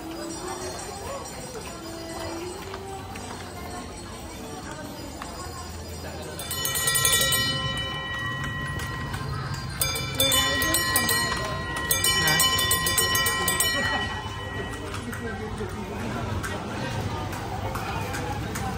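Horse hooves clip-clop in a steady rhythm on a hard street in Vigan at night, with jingling bells and people chatting nearby.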